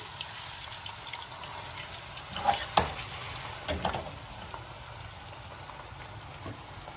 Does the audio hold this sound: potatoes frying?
yes